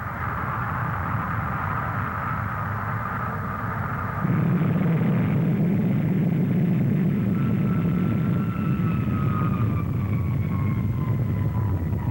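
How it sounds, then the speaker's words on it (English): A jet bomber climbs steeply at the Farnborough air show, roaring steadily, the engine noise swelling louder partway through and holding as a broad, powerful rush with a faint whine above it. "with a push like that, the great bomber soars up almost vertically"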